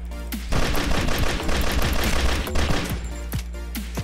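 Rapid bursts of gunfire from the Peace Keeper video game, a dense machine-gun-like volley of about three seconds that ends in a few isolated single shots, loud and close with a low rumbling bed.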